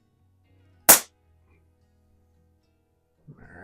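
A single sharp air pistol shot rings out alone in a quiet indoor range during a target shooting comparison of Air Venturi Comp10, Baikal IZH-46M and Feinwerkbau model 65 match pistols, followed by faint shuffling.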